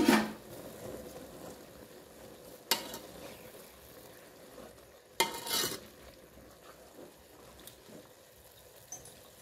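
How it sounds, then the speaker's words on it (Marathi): A spoon stirs mixed vegetable curry in a pan, giving a few sharp scraping clinks against the metal at irregular moments over a soft, quiet background of gentle sizzling. "त्याला चांगल्या प्रकारे हलवून घ्यायचं।"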